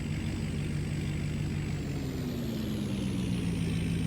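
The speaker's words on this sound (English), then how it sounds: "I wonder where I can park my truck." A truck parks in a farming roleplay video game, its engine droning steadily with a hiss of air brakes and faint beeps over constant low mechanical hum.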